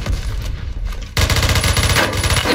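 Rapid automatic gunfire from a weapon in the online shooter game Phantom Forces, a sustained loud burst of fast repeated shots that starts abruptly and continues to the end, with no talking.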